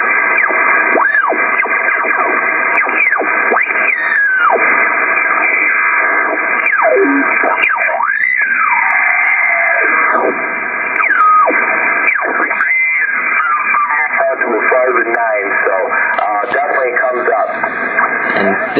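HF amateur radio receiver tuned around 14 megahertz, giving continuous loud band-limited static with warbling, distorted sideband voices and whistling tones drifting in and out.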